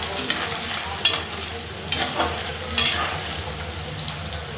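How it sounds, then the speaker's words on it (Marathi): Paneer cubes frying in hot oil in a pan make a steady, close sizzle, with brief louder crackles and a few stirring scrapes, and no voices. "इकडे बघा आपण पनीर तळतोय"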